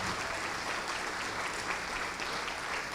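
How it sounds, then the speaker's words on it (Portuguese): A church congregation applauds steadily and continuously throughout, a dense, even wash of clapping from many hands filling the room with no pauses. "vamos aplaudir ao Senhor Jesus por cada vida que está chegando"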